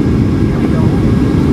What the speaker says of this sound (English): here comes the landing